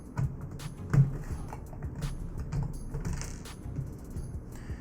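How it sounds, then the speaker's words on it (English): Torx screws being backed out of a PS4 console case with a Torx driver: quiet, irregular clicks and small metallic ticks spread across the stretch, close up, with a faint background hum and no talking. "take our Torx driver and remove the Torx screws that are holding this case in place"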